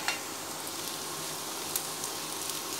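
Onion tempering for drumstick dal sizzling in a pan, a steady close hiss of frying with faint crackles and pops, and no voices.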